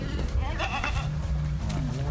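Goats bleat on a goat farm in Trenggalek, a few wavering cries close by over a busy background, with people talking throughout.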